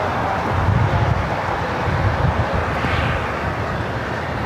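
Jet airliner taking off from runway 25 right at LAX, a broad low rumbling roar with wind-like rush that swells and holds steadily, heard from a distance with no voices.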